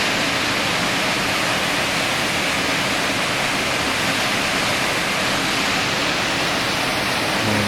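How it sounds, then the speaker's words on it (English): Shepperd's Dell waterfall rushes in a constant, loud, broadband roar, steady throughout with no voices over it. "And here's another view of the waterfall."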